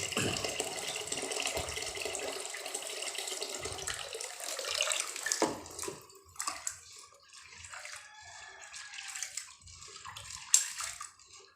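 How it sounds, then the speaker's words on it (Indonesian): Running tap water splashes steadily at first, then turns to sloshing and swishing as soybeans are rinsed by hand for making tempeh, with occasional drips. "Proses pembersihan ini menggunakan air yang bersih dari air keran tentunya"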